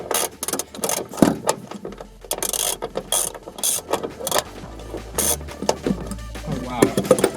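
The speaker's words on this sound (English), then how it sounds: "that's nice and loose. That's what you want from a seatbelt." A car seatbelt is pulled out through its retractor, giving repeated ratcheting clicks and whirring webbing in irregular bursts, close, with someone talking over it.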